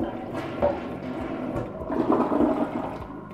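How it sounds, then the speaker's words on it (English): A toilet flushing during a home move-out walkthrough after toilet paper is dropped in, a steady rushing swirl of water that swells near the end. "flush it."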